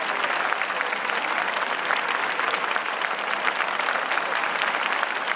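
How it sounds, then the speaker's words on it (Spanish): A church congregation claps, dense and loud applause held evenly across the whole span without any voices over it. "Recibamos a nuestra hermana con un fuerte aplauso, hermanos."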